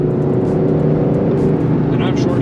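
An Aston Martin DBS Superleggera engine droning steadily as the car accelerates with short shifts, a loud low continuous rumble heard from inside the cabin while people talk over it.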